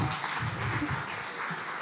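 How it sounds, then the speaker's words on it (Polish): Brief applause from the audience at a Masurian culture festival concert, a soft, even patter of many hands heard a little distant. "Wielkie brawa również dla naszego maestra."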